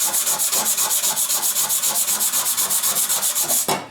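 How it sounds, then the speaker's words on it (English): Sanding the rusty metal surface of an old bread cutter during restoration: a fast, even back-and-forth rasp, about seven strokes per second, loud and close, stopping abruptly just before the end. "It goes in those grooves and sand as well, so you get nice uniform surface."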